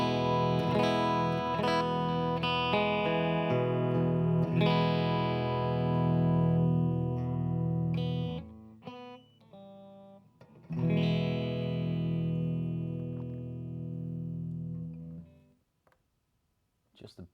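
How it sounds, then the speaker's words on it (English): Electric guitar played through effects pedals with reverb added, ringing sustained chords and notes with a long wash that decays, pausing briefly midway before resuming and fading out at the end. "Now let's just add a bit of reverb to really add to that"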